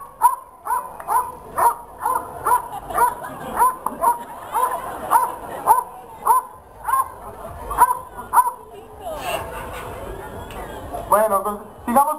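A dog at a livestock expo barks repeatedly in a steady rhythm of short, fairly close barks, with a few yips, while people talk nearby.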